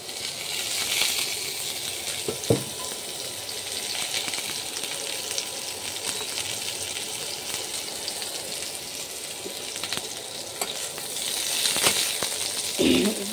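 Boiled potatoes fry in hot oil with black cumin and green chilli, giving a loud, steady sizzle throughout, with a couple of brief knocks and a surge of crackling near the end.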